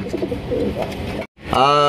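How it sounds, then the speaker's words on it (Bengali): A large Gopalganj pigeon lets out a close, deep coo at the end, after a moment of people talking over the bird. "গোপালগঞ্জের বড় পায়রা দেখছেন নি?"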